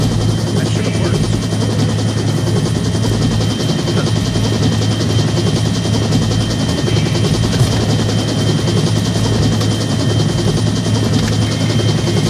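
A helicopter at the evacuation point in the VR shooter game Onward makes a loud, continuous rotor drone with a steady low hum. The drone never lets up, and faint gunfire and talk mix in underneath.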